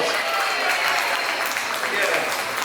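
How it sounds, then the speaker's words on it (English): Applause from a gathered audience at a St. Lucia tourism event, a continuous wash of clapping with voices mixed in under it. "Give yourself a round of applause."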